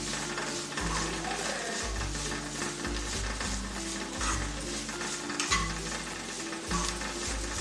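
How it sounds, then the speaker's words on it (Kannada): Freshly grated coconut roasting in a pan after golden onions, stirred continuously: a soft, steady sizzle with repeated scraping and rustling strokes of the spoon, close up and without talk. "ಕೊಬ್ಬರಿ ತುರಿನೂ ಚೆನ್ನಾಗಿ ಹುರಿದುಕೊಳ್ಬೇಕು."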